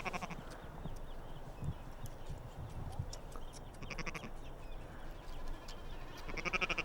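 Sheep bleating at a distance on an Icelandic farm, several faint, brief calls scattered over a quiet outdoor background, with no talk.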